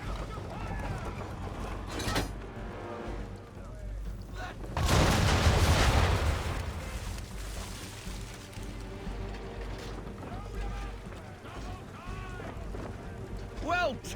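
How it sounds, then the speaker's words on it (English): Sailing ship cannon broadside firing round shot in Assassin's Creed 3, a single heavy booming blast with a rushing roll that fades over a few seconds, set among wind, creaking and sea ambience with some talk around it. "Bring around broadside, and when all guns are on target, call fire."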